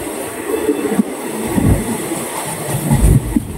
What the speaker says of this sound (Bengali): ট্রেন প্রান্তিক ছেড়ে দিল, এবার তার পরবর্তী গন্তব্য বোলপুর স্টেশন